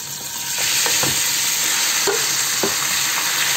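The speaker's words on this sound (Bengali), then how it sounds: "এখন আমি দিয়ে দেব ধুয়ে রাখা মাংসটা" Washed chicken pieces drop into hot oil with fried chopped garlic and cinnamon in a pan, setting off a steady close sizzle with a few stirring scrapes and clinks over it.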